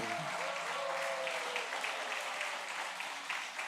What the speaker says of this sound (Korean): 참 잘했다고 박수 한번 해주시면 좋겠어요